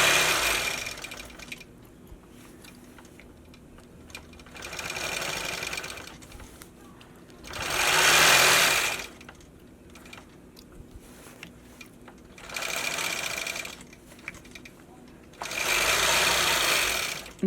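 Quilting sewing machine running with a stitch regulator, stitching in five separate bursts of a few seconds each, steady and moderately loud, with quiet pauses between them and no talk.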